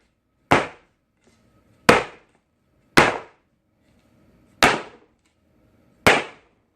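Five sharp, loud bangs of a cake pan knocked against a surface to release air bubbles from Hershey bar cake batter, spaced about a second or more apart with near silence between.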